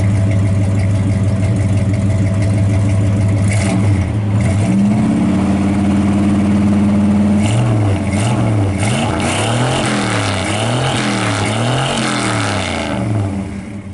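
A 1983 Chevy 4x4 truck engine runs close and loud at a rough idle, then swells into a sustained rev before cycling through repeated rhythmic revs and settling back down.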